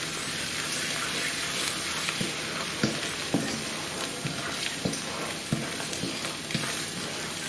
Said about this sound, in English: Turmeric gives this dish a nice yellow colour. Keep on stirring it around.